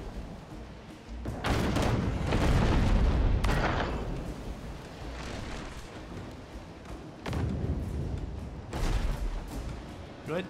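Booming ship cannon fire in the naval combat game Abandon Ship: heavy, rumbling blasts at about 1, 3 and 7.5 seconds, each trailing into a long roar, with a steady battle din between them.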